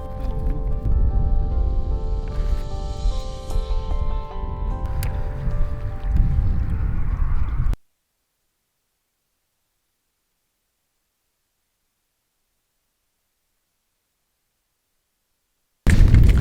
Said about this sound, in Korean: 근데 바람이 너무 많이 불더라고요